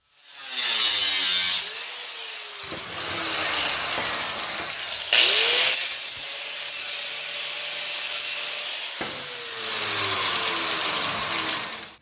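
A power tool cuts through a metal repair panel for a rusty car door, rising and falling in pitch over several passes with brief pauses between strokes, loud and close with no talk.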